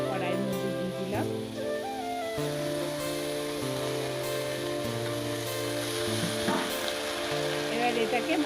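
Washed banana stem pieces fry in a wok with mustard and turmeric, giving a continuous hiss that runs beneath a steady tonal music bed for the whole stretch.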